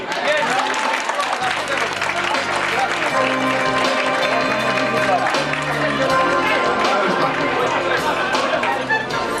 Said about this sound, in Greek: Να υποδεχτούμε με ένα χειροκρότημα την Κάτια Δρακουλάκη